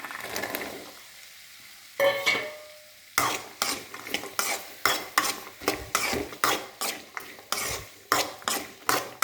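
Garlic tossed into hot oil and stirred in a pan, with a rhythmic series of close spoon scrapes and clanks over a continuous sizzle.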